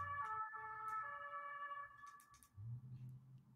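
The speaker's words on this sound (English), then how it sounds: "an ambulance just went by" An ambulance siren wails in the background behind a radio show broadcast, a steady high tone that fades as the vehicle passes, faint and distant.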